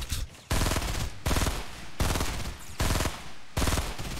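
Bursts of automatic gunfire in a Fortnite battle royale match, five loud rapid volleys of roughly a second each. Short quiet gaps separate them and no talking is heard.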